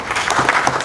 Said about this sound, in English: Most give them a round of applause.